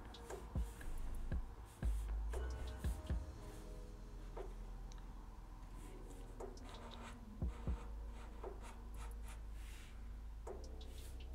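Pencil drawing a hand on paper during a Dragon Ball sketch of Broly and Goku, heard as scattered soft scratching strokes and light taps over a low steady background hum, with no talking.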